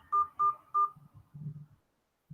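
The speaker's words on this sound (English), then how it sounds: "Enter the meeting pin followed by the pound key." Telephone keypad tones punched in while entering a Google Meet meeting PIN: three quick even beeps, followed by faint low murmuring and then near silence.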